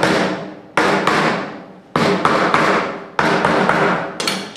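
A hammer taps staples into wooden canvas stretcher bars, giving four sharp, loud strikes with short decays, spaced about a second apart, with no talk.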